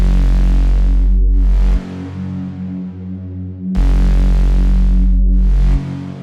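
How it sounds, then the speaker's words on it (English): Trap bass line built in FL Studio, with heavy sustained sub-bass notes that cut off and echo, layered with brighter synth tones, repeating in a two-bar pattern, loud and upfront with no voices. "So the whole bass line sounds like this."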